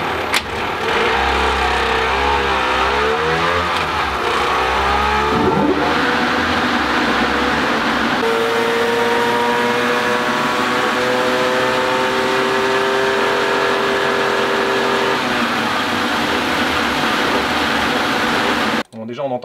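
A heavily modified 50cc motorcycle engine revs on a dyno, up and down with rising, sustained pitch under a loud steady dyno fan roar, a voice speaking over it before cutting off.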